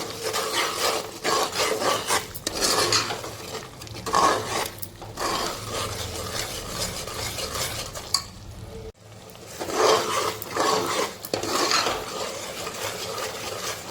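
Dried mint and chopped coriander are stirred in a pot for chicken pulao, with repeated rasping scrapes of a spoon against the pot over a soft sizzle and a brief pause midway.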